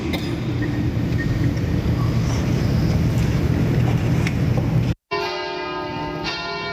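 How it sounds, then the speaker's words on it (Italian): Church bells ring loudly and continuously at the end of mass in Veneto, Italy, with a windy, noisy background; after a brief cutout, the bell tones continue ringing clearly. "Suonano le campane alla fine della messa."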